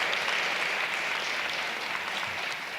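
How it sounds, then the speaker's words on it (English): Steady audience applause at a luncheon event, many hands clapping in a continuous, moderately quiet wash that tapers slightly toward the end. "A round of applause again to Assemblywoman De La Rosa."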